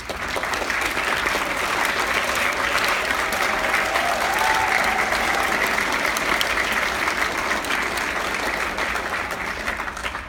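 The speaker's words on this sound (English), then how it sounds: "give your parents a big round of applause" A large audience at a 2016 all-county school concert gives sustained, loud applause, a dense even clatter of many hands that holds steady throughout and fades slightly at the end.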